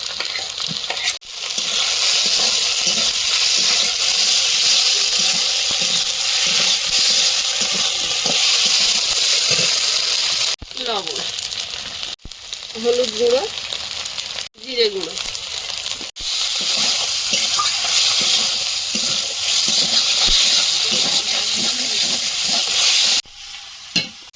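Ginger, garlic, onion, green chilli and tomato fry steadily in hot oil, a dense continuous sizzle with stirring scrapes throughout, briefly dipping near the middle and end, while a voice talks over it at times.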